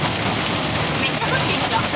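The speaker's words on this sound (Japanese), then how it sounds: "いきなり雨が降ってきました。 割と強い。" Heavy, sudden rain drums steadily on a camper van's roof and windows, a dense, loud hiss with scattered sharper drop impacts and no pauses.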